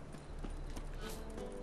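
Brief clip-clop of horse hooves in The Witcher 3: Wild Hunt, a few quick hoofbeats over busy game ambience.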